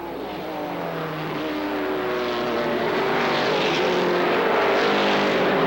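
ARCA SuperCars stock cars racing down the backstretch into turn three at Kil Kare Speedway, a sustained engine roar with shifting pitch that grows steadily louder as the cars approach.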